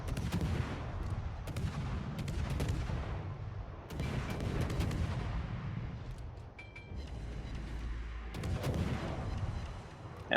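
Naval ship guns firing in World of Warships during a late-game fight, with repeated heavy booming salvos and rumbling explosions rolling on continuously, loud and close, with no talk.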